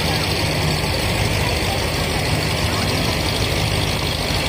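A trawler boat engine idles with a steady, low mechanical rumble, constant and fairly loud throughout, at a sand-dredging site.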